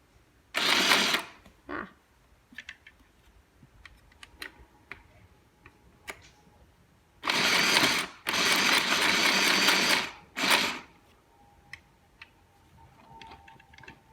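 A Shark by Euro-Pro sewing machine stitches in loud, close bursts of one to three seconds. Between runs there are quiet mechanical clicks as the needle and presser foot are set and the fabric is turned.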